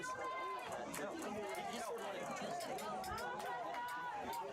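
Crowd at a soccer playoff final at Marietta High School Stadium, a dense, steady hubbub of many voices cheering and chattering throughout, loud and continuous.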